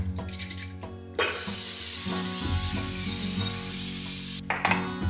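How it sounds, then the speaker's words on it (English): A steady hiss of cooking spray into a crock pot lasting a few seconds, close by, with short clatters and handling noises before and after. "I'm gonna spray down my crock pot."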